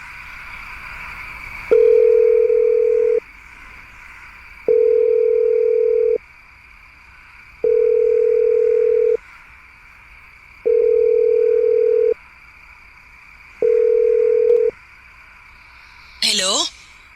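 Telephone ringback tone while a call is placed, five evenly spaced long beeps with pauses between, over a faint background hum, ending in a brief burst as the line picks up.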